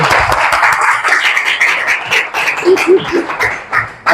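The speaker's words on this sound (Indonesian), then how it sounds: "tepuk tangan" Schoolchildren in a year-9 science classroom clap their hands together, a dense, close burst of many overlapping claps that runs steadily for about four seconds without talking.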